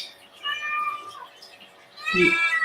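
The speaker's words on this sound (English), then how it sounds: "now my other cat is complaining" A house cat meows twice indoors, a drawn-out wavering call followed after a pause by a louder, strained complaint, close and clear.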